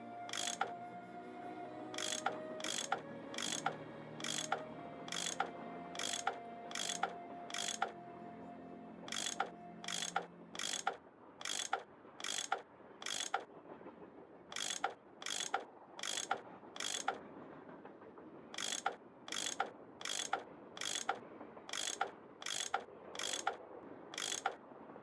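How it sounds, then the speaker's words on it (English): A tool unscrewing bolts in the Nancy Drew game The Last Train to Bluemoon Canyon: crisp, evenly paced ratcheting clicks in repeated runs. A low tonal hum sits under the first several seconds. "That tool I saw in the caboose. I bet that's what you use to unscrew these bolts."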